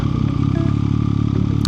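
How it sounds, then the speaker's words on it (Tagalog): A three-cylinder MV Agusta Brutale 675 motorcycle idles with a steady, constant exhaust drone and no gaps, heard close and loud throughout with a faint clatter. "So ganito pala yung tunog ng 3 piston."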